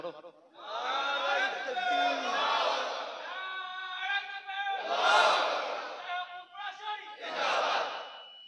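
A large crowd at an outdoor Islamic sermon shouts a takbir, answering the preacher in loud, ragged bursts. Three swells of massed voices rise and fall over about eight seconds, with brief gaps between them.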